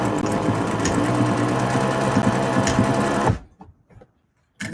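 Sewing machine running a quarter-inch edge stitch to close a cloth face mask, a steady loud mechanical whir that stops abruptly near the end, leaving near silence with faint handling clicks.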